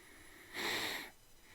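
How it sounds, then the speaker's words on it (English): A short nasal sniff of a peppermint chocolate beer close to the mic, a brief breathy inhale lasting about half a second, alone in a quiet room. "Let's give it a sniff."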